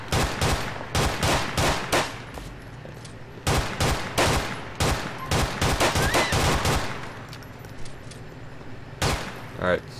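Gunfire in GTA IV during an LCPDFR police patrol, a rapid run of loud, sharp shots in tight bursts over most of the stretch, a pause, then a final pair of shots.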